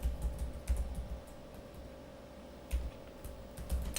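Someone types code on a computer keyboard, sending scattered close key taps in small bursts with pauses between them over a low electrical hum.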